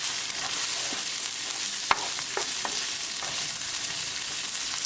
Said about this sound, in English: Keep it moving and keep cooking until the onions are nicely translucent.